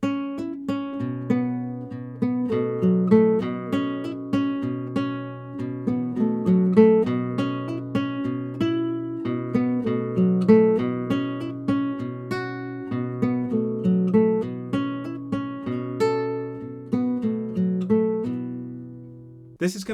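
Guitar plays a Tuareg-style melody in a minor pentatonic variation, quick picked notes weaving around a repeating low pedal-tone bass, steady and close for the whole stretch with no voices.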